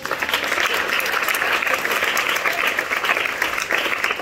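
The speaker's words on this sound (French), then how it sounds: "Je veux l'acclamation." A church congregation claps steadily and loudly throughout, a dense wash of applause with some cheering mixed in.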